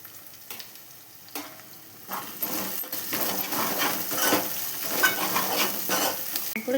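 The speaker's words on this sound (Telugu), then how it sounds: "అల్లం వెల్లుల్లి పేస్ట్ కూడా మంచిగా ఫ్రై అయింది." Ginger garlic paste with turmeric frying in a pan gives a steady sizzle, with a spoon stirring and clinking against the metal, close and building louder after quieter opening taps.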